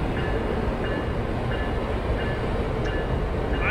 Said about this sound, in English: My train will be running by itself